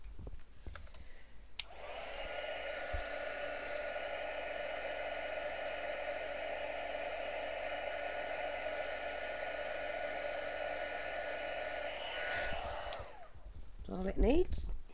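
A hair dryer blows steadily on paint, switching on after a short pause and running as a continuous loud whooshing hum for about eleven seconds before cutting off, with faint rustling and a brief voice near the end.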